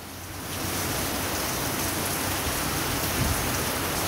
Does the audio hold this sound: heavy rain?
yes